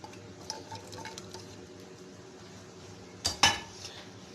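A spoon scraping and clinking in a pot of red bean (lobia) curry being mixed, soft stirring with two sharper metallic knocks near the end.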